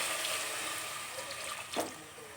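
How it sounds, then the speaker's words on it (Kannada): Water poured into a cooking pot of dry chicken and sprouted-bean gravy in a home kitchen, a soft continuous trickle with a brief louder splash near the end, fairly faint. "ಇದಕ್ಕೆ ಇವಾಗ ನೀರು ಹಾಕಿಸ್ಕೊ"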